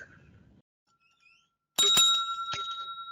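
A bright bicycle bell dings twice in close succession, with a long ringing tone that wavers as it fades.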